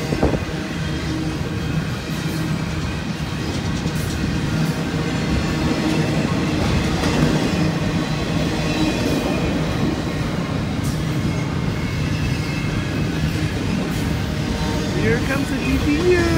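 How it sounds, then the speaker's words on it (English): A BNSF freight train rolls through downtown Flagstaff, its rear DPU locomotive roaring loud and close as wheels clatter steadily along the rail for the whole stretch, with faint voices underneath. "Here comes the DPU. Listen carefully. The DPU is very loud."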